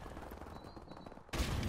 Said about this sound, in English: there's a dude up here shooting at me